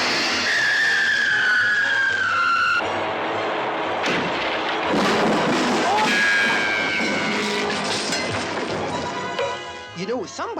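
Cartoon runaway bus skidding with long squealing tyre whines, overlaid by crashes, bangs and zany sound effects, loud and busy throughout with a falling whistle near the end.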